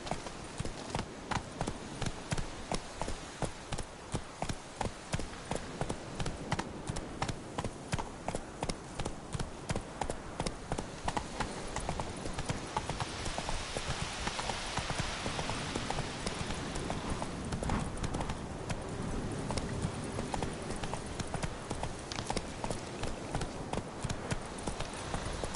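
Hooves of the horse Roach in The Witcher III trot steadily on the ground, a continuous, even clip-clop rhythm lasting throughout, fairly close and moderately loud.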